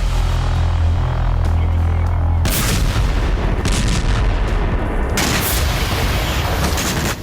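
Loud, continuous rumbling blasts with a heavy low boom early on, then sharp broadband bursts that keep roaring and echoing: Russian missile and drone strikes on Kyiv, Ukraine, heard from a distance.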